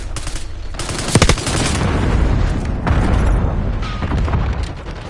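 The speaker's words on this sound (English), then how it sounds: "Incoming flashbang." A flashbang grenade going off in a video game, a sharp loud bang followed by a sustained roaring wash of noise with scattered gunfire-like cracks, up close and dominant.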